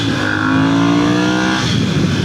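Ducati Monster 1100 motorcycle at night, its engine revving up with a rising, close, loud tone, then dropping into a rougher burble.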